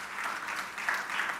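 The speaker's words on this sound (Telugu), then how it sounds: "చప్పట్లు గట్టి కొట్టి దేవుని స్తుతించు" A church congregation claps together in a brief, dense burst of applause, moderately distant and steady, with no voices rising above it.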